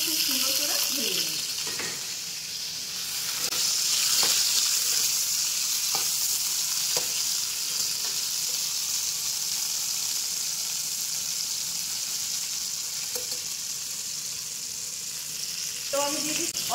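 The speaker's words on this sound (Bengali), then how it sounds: "ব্রোকলিটা আমি খুব সুন্দর করে ভেজে নেব" Broccoli fries in a pan with a steady, close hiss of oil sizzling, broken by a few soft scrapes of stirring over the long continuous sizzle.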